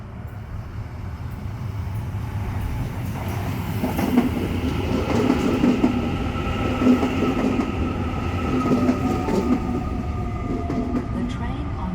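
A four-car passenger train rolls into a station platform with a steady rumble, wheel clatter and faint squeal building over twelve seconds, close and continuous with a low mechanical hum.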